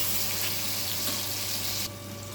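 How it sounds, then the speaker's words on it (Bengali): Tomatoes frying in a pan for a rohu fish kalia curry, a loud steady sizzle with occasional stirring, dropping suddenly quieter near the end. "কিছুক্ষণ এইভাবে নেড়ে নেব, নরম হয়ে যাবে টমেটোটা"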